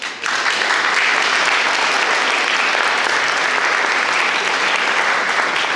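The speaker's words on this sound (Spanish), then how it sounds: "Le damos un aplauso a todos a Pedro." A church congregation at a Catholic Mass applauds together, a dense, steady round of clapping that starts abruptly and holds at an even, full level throughout.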